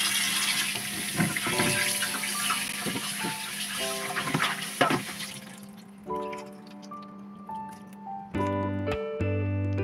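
Tap water runs steadily into a kitchen sink while a pig tongue is washed, loud and close with splashing and dripping, then the flow stops and tonal clatter and background sounds take over.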